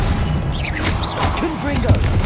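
Confringo fire spell blasts in Hogwarts Legacy, booming crackling explosions with whooshing streaks over dense battle noise, loud and close, with a voice calling out the spell.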